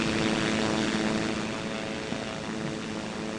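Steady propeller aircraft engine drone of a plane flying level in the video game Simple Planes, loud and continuous with no talk.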